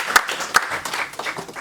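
A church congregation at a Sunday deliverance service claps in loose bursts, with sharp hand claps standing out among scattered applause and mingled voices.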